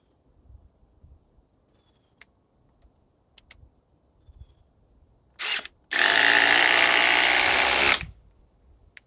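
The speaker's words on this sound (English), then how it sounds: "Let's see about drilling with it." A cordless power drill with a 1.7 power stack battery gives a short test burst, then runs at full speed for about two seconds with a loud whine, after a few faint handling clicks.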